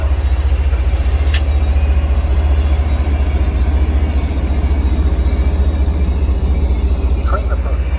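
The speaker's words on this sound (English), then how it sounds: "lets us know that train 190 from Philadelphia to Boston is coming" Amtrak-style train 190, Philadelphia to Boston, rolling toward a station platform in the Boston area, a steady loud rumble of railcars and wheels with faint squeals, continuous throughout.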